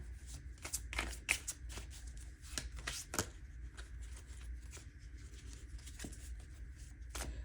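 Tarot cards being shuffled by hand, a steady run of soft riffling and snapping bursts with a few sharper slaps, close and fairly quiet, no talking.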